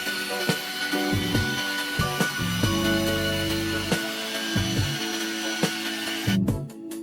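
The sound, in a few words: polishing machine buffing car paint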